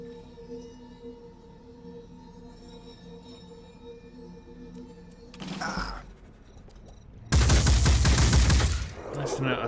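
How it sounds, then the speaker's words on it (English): Turret gunfire in the video game Phoenix Point, a short burst of shots followed by a louder, sustained roar of rapid fire over a low humming background. "Nice to know our turrets are wasting their shots on worms right now."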